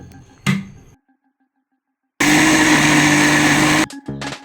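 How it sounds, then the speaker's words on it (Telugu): A kitchen mixer grinder grinds soaked cowpea dal with green chillies, ginger and cumin, running loud and close in one sustained burst of about a second and a half, then pulsing briefly, after a quiet pause and a short knock. "ఇప్పుడు ఇందులోనే 4-5 పచ్చిమిర్చి, 2 ఇంచుల అల్లం ముక్క, కొంచెం జీలకర్ర వేసి గ్రైండ్ చేసుకోవాలి"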